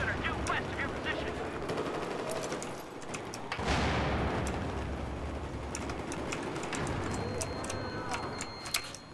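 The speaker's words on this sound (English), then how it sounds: "I've spotted a hostile machine gunner due west of your position." Machine gun fire in the PC game Battlefield 4 rattles in dense, continuous bursts amid a busy battlefield din of shots and explosions, loud and sustained, with voices heard over it.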